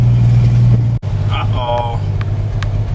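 A homemade vehicle with no muffler fitted runs loud and rough throughout, its low engine drone dipping briefly before resuming, with someone talking over it.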